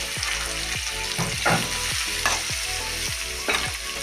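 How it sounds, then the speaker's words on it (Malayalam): Chopped onion sizzles in a spoonful of hot coconut oil in a wok-style pan, a steady bright frying hiss broken by repeated scraping stirs, close and loud with no talking. "അതിൽ ഞാൻ സവാള ഇടും."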